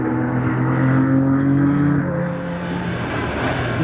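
Race cars, a Ferrari 488 Challenge among them, roar around the Val de Vienne circuit during a race, engines droning loud and steady with shifting tones as the cars pass close by, then easing slightly before building again.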